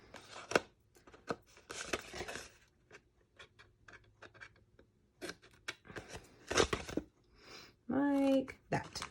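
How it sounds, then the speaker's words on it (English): Scissors snipping the corners off small paper pieces for a brownie treat box: a string of short, crisp cuts, close and fairly quiet, with a brief voice near the end. "go back and cut the corners off of those"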